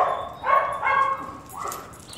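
A dog gives two or three whimpering, yelping barks in quick succession, close and fairly loud, then a softer trailing whine. No one talks.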